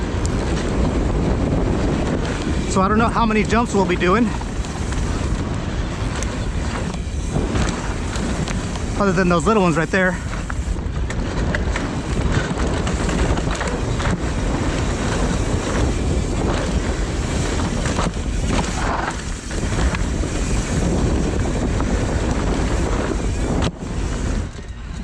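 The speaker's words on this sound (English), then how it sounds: "It is a bit of a windy day" Steady wind noise roars over the microphone throughout a mountain bike ride on a Santa Cruz Bullit, a constant low rumble with someone briefly speaking above it.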